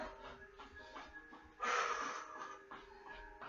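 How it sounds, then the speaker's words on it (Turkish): Heavy breathing during a fat-burning home workout: steady, rough breaths at low volume, then a sudden harder exhale bursts out midway before the breathing settles back to a quieter rhythm. "Eğer nefesin yeterli gelmiyorsa ağzından Sadece nefes alıp ver"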